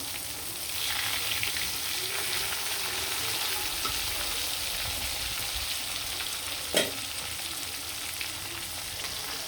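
Shol river fish fries in plenty of mustard oil, a constant dense sizzle close by with light stirring and one sharp clink of utensil near the end.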